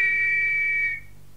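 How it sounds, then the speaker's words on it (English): A shrill, steady whistle is blown in one sustained blast lasting nearly a second before cutting off abruptly, loud and close, with a faint low hum underneath. "I shall blow the whistle once more, and you'll walk into your rooms in an orderly and proper manner."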